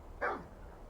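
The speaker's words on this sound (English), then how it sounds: "It gives more an impression of a faraway dog." A single dog bark placed far off in a binaural mix, one short faint yelp-like bark that fades quickly into quiet.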